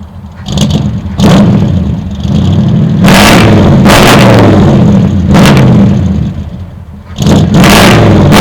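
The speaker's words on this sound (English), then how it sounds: "So I could give it a little rev." Ford 390 FE V8 with stock tailpipes revving hard in repeated bursts, each blip climbing then falling back to a rumbling idle, loud and close with no talking.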